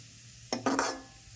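Carrots fry in oil or ghee in a pan, giving short bursts of sizzling and stirring scrapes, with a final sharp clatter.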